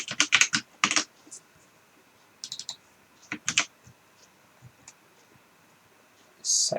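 Bursts of typing on a computer keyboard while writing C# code, clustered clicks with gaps and a final rapid run, close and clear with no speech over it.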